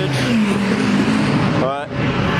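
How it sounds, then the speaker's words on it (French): Ferrari 499P, Lexus and Aston Martin Vantage endurance race cars roar past, a loud continuous engine drone with a sharp pass-by sweep near the end, heard with a voice talking over it. "T'as les deux Ferrari P499, la Lexus, Aston Vantage."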